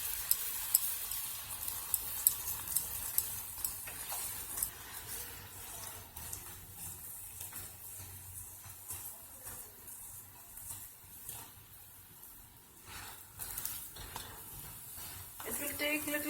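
Methi paratha, a rice-flour flatbread, fries in oil on a pan over a medium flame, giving a steady close sizzle with light scraping and stirring sounds throughout.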